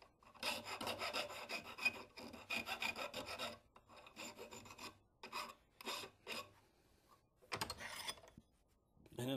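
A small hand file rasps back and forth over punched metal trap parts to remove burrs, giving steady bursts of close scraping strokes with brief pauses between them and no speech.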